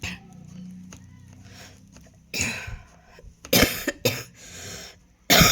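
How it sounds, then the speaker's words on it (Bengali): An elderly person with a cold coughs in a few harsh, close bursts, with a quieter stretch of faint room noise before them. "ঠান্ডাতে আবার কাশি হয়ে গেছে"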